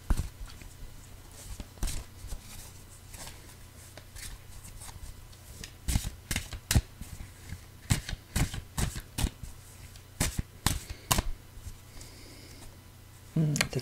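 Tarot cards being shuffled by hand up close, with quiet, irregular bursts of riffling and tapping spread across a low-level background.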